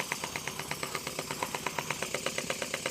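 Twin-cylinder marine steam engine, finely machined and running on very low steam pressure, chuffing in a steady rapid rhythm of even exhaust beats with a bright metallic clicking, close and continuous with no talk.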